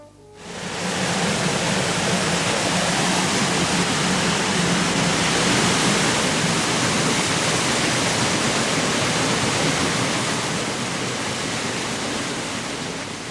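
Steady rushing water of a mill stream driving a water wheel at an old flour mill in Friuli, a dense, continuous roar that holds at constant loudness throughout with no voices.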